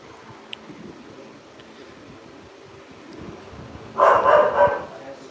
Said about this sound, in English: If you can hear a dog barking at the moment